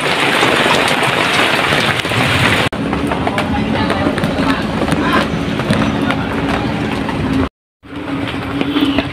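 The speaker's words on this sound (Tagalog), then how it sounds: "Ang dalang ulan guys oh." Heavy rain roars loudly and steadily on a hut, briefly cutting out near the end, with a faint rhythmic clatter of leaks underneath.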